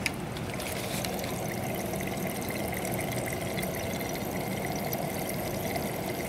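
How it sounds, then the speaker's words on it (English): Battery acid fizzing and bubbling as it fills a new dirt bike battery, a steady close trickling hiss that runs on evenly without pause, moderately quiet. "You can hear it kind of bubbling there a little bit now."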